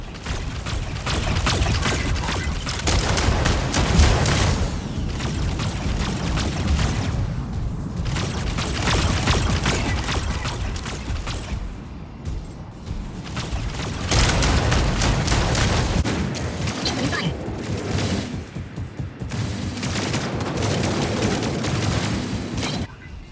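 Rockets firing alternately from a vehicle in a video game battle, a dense, continuous barrage of booms and mechanical clatter, loud and close with brief lulls between bursts.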